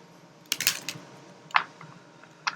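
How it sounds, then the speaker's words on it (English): A deck of tarot cards is shuffled in three short, crisp bursts of papery snapping, close and fairly quiet, separated by brief pauses. "Let me get one more shuffle in here."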